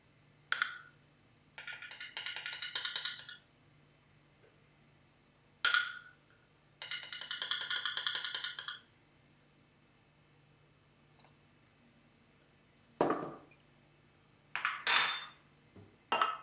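A spoon clinks and scrapes against a bowl and a mug in several short bursts separated by quiet pauses, close and fairly crisp, with no talking.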